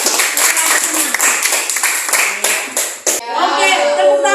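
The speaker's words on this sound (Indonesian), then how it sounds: "tepuk tangan dulu" A classroom group claps hands after student presentations in a physics lesson, brisk dense clapping that fades out near the end, followed by a brief stretch of talk.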